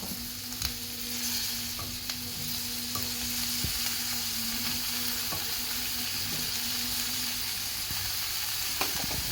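Mixed vegetables with eggplant and potato sizzle steadily in hot oil for bhogichi bhaji, a soft constant frying hiss with a few faint clicks of stirring and no talk.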